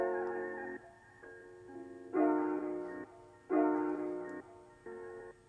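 A sustained, chopped musical sample treated with EQ, Valhalla reverb and Echo Boy delay swells in blocks of held tones, some louder than others, with a soft wash between them and no voices.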